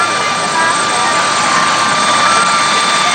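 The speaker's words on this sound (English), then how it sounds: "Okay, now I'm looking for a fifth helicopter." Helicopters fly overhead at an outdoor Ronald Reagan rally in Fullerton in 1988, a loud continuous rotor and engine drone filling the scene without letup.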